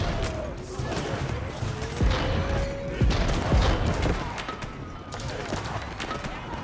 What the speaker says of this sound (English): And Cannoneer is firing away.